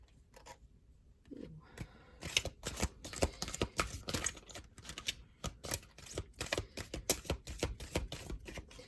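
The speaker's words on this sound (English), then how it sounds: "I'm going to shuffle this one time here." Tarot cards riffle and snap in a rapid, continuous flurry of crisp slaps, close up, after a brief quiet start.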